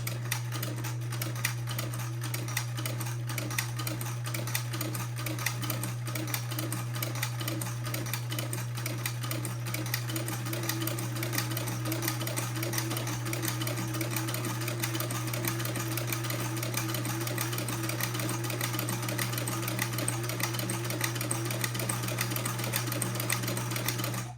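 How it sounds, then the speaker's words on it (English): A sewing machine stitches a buttonhole on a child's outfit with a fast, even mechanical chatter that runs steadily and alone, fairly quiet and close. "lower my presser foot, and proceed to make a buttonhole."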